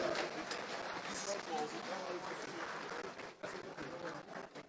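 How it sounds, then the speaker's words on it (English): Audience applause at a Nigerian ruling-party stakeholders meeting, steady dense clapping from a large crowd in a hall, filling the whole stretch without a break and dipping briefly near the end. "Please clap for him"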